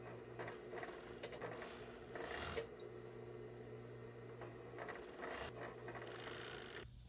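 A serger (overlock sewing machine) stitching around a hoodie neckline gives a faint, steady mechanical whir with small rhythmic ticks throughout.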